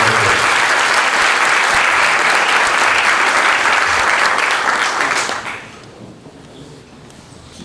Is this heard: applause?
yes